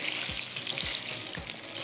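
Food sizzles steadily in hot cooking oil over a high flame, a close, even crackle with faint bubbling pops throughout.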